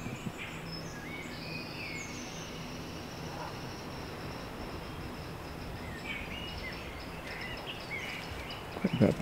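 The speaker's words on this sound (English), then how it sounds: "Quite a bit of birdsong in this wood" Birdsong in Whitehouse Woods near Lamlash on the Isle of Arran, with scattered chirps and calls over a steady outdoor background hiss, mostly faint to moderate, and a brief closer rustle at the end.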